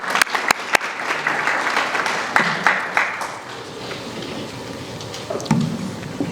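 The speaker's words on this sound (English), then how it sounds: "let's welcome Abdullahi again with another round of applause" A roomful of people at a community foundation gathering in Portland, Maine claps to welcome a speaker, moderate applause with a few sharp nearby claps that thins out and fades toward the end.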